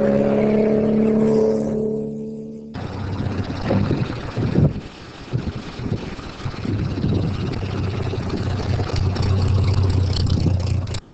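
The cast-iron engine of a Morgan Plus 4 race car runs with a deep, rough rumble, loud and close, mixed with wind buffeting the microphone.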